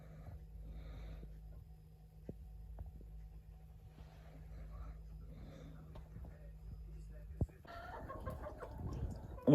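Chickens cluck softly inside a coop on a small farm, faint, intermittent calls over a low steady hum, with some louder clucking and rustling near the end.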